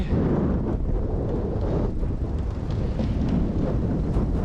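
A strong headwind blows into the microphone while cycling along a canal near the sea, a loud continuous rumbling buffet with no voices.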